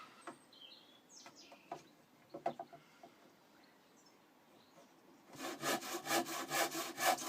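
Handsaw cutting a second-hand piece of lap wood to size for a gate, preceded by faint bird chirps and light handling sounds, then a run of loud rhythmic back-and-forth sawing strokes close by.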